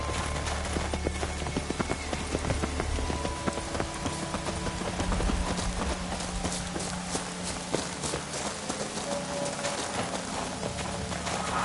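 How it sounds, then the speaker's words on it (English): Horse hooves clip-clop in a steady trotting rhythm over a constant wash of falling rain in the video game The Witcher 3, loud and close throughout. "Looks like rain."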